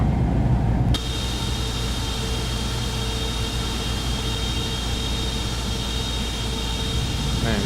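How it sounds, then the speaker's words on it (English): Boeing 777-300ER jet engines roaring in reverse thrust in X-Plane 11, a loud steady broadband rush with a whining tone that jumps up abruptly after a second and then holds constant. "Oh, reverse thrust is on."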